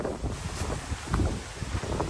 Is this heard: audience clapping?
no